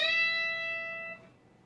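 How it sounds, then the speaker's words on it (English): A single sustained electric guitar note is bent up a whole step, ringing clearly with rich harmonics before decaying after about a second, played alone. "and then there's a whole step bend, so it should sound like this"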